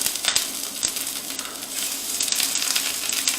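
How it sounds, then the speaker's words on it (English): Meatballs for keto Swedish meatballs searing in a smoking-hot sauté pan, giving a steady, close, loud sizzle and crackle with a few sharp pops, no voices. "You hear that sizzle? That's exactly what we want."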